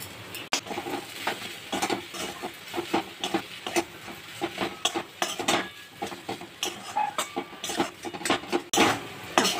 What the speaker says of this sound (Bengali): আলুটাকে এবার আমি মশলার সঙ্গে ভালো করে মিক্স করে নেব